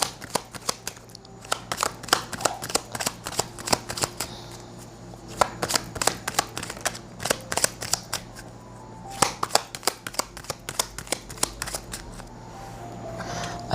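A deck of message cards is shuffled repeatedly during a tarot-style card reading, giving dense, rapid riffling flicks and snaps in close, steady bursts, with no talking over them.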